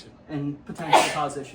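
A single sudden sneeze bursts out mid-sentence beside a laminator, sharp and close, between stretches of steady speech.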